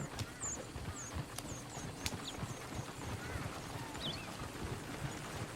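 Horse hooves clip-clop in a steady walking rhythm in the video game Red Dead Redemption 2, fairly quiet under outdoor ambience with chirping birds and faint background voices.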